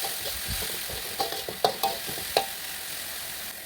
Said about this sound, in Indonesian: Kemudian bumbu ditumis,